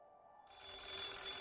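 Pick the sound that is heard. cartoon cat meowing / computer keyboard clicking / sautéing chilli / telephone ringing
telephone ringing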